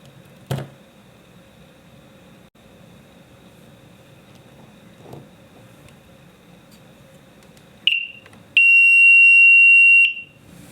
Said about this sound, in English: Now our beeper.